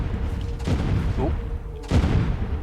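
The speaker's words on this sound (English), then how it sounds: "Something's shooting." Broadband bursts of gunfire in the mech combat game MechWarrior 5, two loud volleys with a brief lull between them over a steady low rumble, with a voice speaking briefly.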